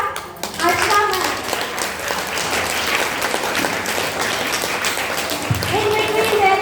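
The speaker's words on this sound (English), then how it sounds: "So clap for Archana ma'am." An audience claps for a Hindi teacher at a school event, a dense, steady wash of applause running throughout with scattered voices and someone speaking beneath it, swelling again near the end.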